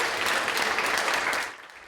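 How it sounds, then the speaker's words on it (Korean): Korean researchers at mission control cheer and applaud after satellite contact succeeds, a dense burst of clapping and excited voices that fades out near the end. "국내 연구진의 환호가 터져"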